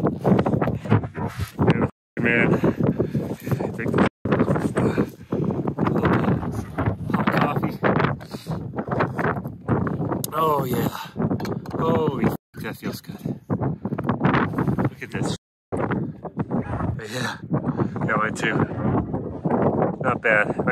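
Strong winter wind on Mount Monadnock buffets the microphone in loud, continuous gusts, with brief lulls and a person talking through the noise.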